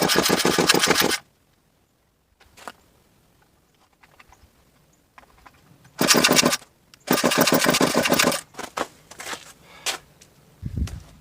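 Small Poulan 2000 chainsaw, choked and fuelled, being pull-started: short loud bursts of rough engine sputter and cord pulls, separated by quiet gaps, never settling into a steady run.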